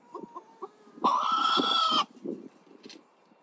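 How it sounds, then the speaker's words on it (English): Chickens in a newly acquired backyard flock cluck softly in short bursts, then one lets out a loud, drawn-out crow-like call for about a second before the quiet clucking resumes. "Okay, here are the chickens."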